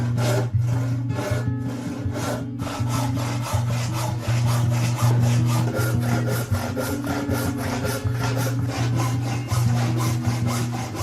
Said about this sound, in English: I'm going to start out by cutting a wide strip out of this flat sawn board